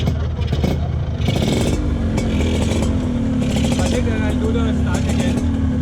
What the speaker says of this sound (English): at its heart was still a rev-happy two-stroke engine.